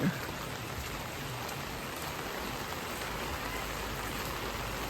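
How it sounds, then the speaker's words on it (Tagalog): Heavy rain pours steadily on a cold day, a dense, constant hiss of drops drumming on surfaces that stays loud and unbroken throughout. "ayan ang lakas ng ulan ngayon"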